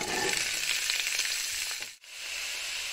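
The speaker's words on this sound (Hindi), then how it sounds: "ऑयल गर्म हो गया है, अब इसके अंदर गोभी को शामिल करेंगे।" Cauliflower pieces for aloo gobhi sizzle in hot oil, a dense steady frying hiss that fills the clip, briefly dipping to near silence around the two-second mark before the sizzle returns.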